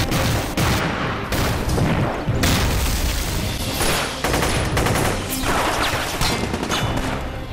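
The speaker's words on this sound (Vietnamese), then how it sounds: "Đừng bắn nữa." Relentless gunfire and explosions from a battle scene in a Chinese anti-Japanese war drama: dense machine-gun bursts and heavy booms pound without pause, loud and close.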